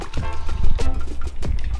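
A citric acid solution made with boiling water is poured into the fuel tank of a Puch Maxi moped, giving a loud, close gurgling fill with liquid splashing and dribbling for about two seconds.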